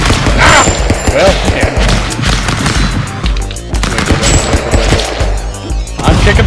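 Rapid gunfire bursts and booms from the Stick Fight game ring out continuously over busy, dense game sound, with loud repeated shots throughout.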